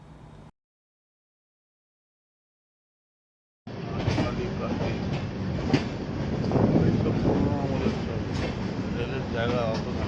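A train running, heard from on board during a Rajasthan tour: a short burst of noise, a gap of silence, then a steady rolling rumble with faint clatter and voices in the carriage.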